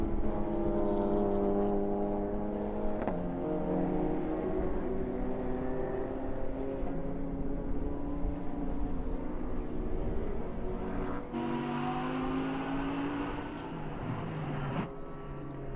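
A KTM X-Bow race car pits during a GT endurance race at Autodrom Most, its engine droning steadily with shifting tones and gear changes, mixed with other circuit engine noise at a moderate distance and no talking.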